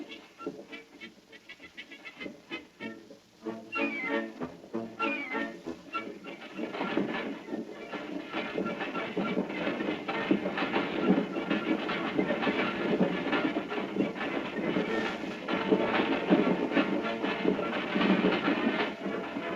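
A train rolls along its rails at the New York World's Fair railroad pageant, with rhythmic clickety-clack building from a quieter start into a loud, steady run.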